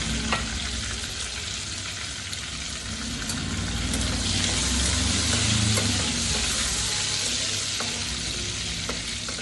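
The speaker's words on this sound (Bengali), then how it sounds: "তারপরে শুকনো লঙ্কাটা দিয়ে দেবো, আর তেজপাতাটাও ছিঁড়ে দিচ্ছি।" Dry red chili and torn bay leaf sizzle in hot oil with five-spice seeds, a steady, loud frying hiss running the whole time with faint stirring beneath.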